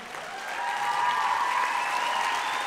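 An audience at a Bulgarian folk dance ensemble's anniversary concert breaks into steady, dense applause that swells within the first half second and holds as a continuous wash of clapping.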